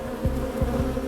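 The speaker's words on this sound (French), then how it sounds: "Cet arbre est entièrement recouvert d'abeilles." Honeybees massing over a tree trunk in a dense colony, a steady close droning buzz with a few brief louder swells as individual bees pass near.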